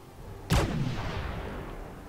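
Artillery cannon in Fallout 4 fires a single loud, sharp boom that rolls into a long rumbling decay, with no voices over it.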